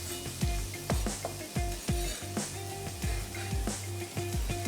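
Onion dropped into hot oil for a Pakistani tawa qeema, giving a loud, steady sizzle with repeated clinks and scrapes of a spoon against the pan, no talking.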